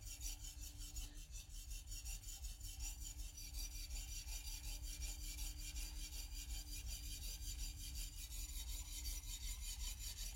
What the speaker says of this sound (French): Et c'est parti pour affûter. Donc je démarre au talon.